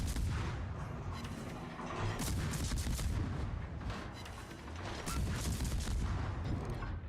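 Warship guns firing in World of Warships, a dense run of heavy booming salvos and rumbling blasts, loud and continuous across the span.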